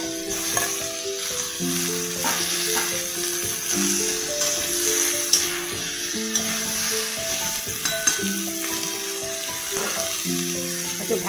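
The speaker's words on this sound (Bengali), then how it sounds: "একটু ঢাকা দিয়ে ভেজে নিচ্ছি।" Cauliflower and potato with salt and turmeric fry in a partly covered pan, giving a steady close sizzle with occasional stirring clinks, over a soft melodic tone in the background.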